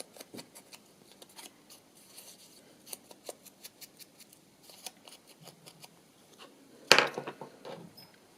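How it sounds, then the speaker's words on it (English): Scissors trimming the corners of paper book page tags, a close string of small snips and crisp paper cuts, ending in one louder rustling cut, with no talking. "I think just need to trim this off a little bit more on these corners."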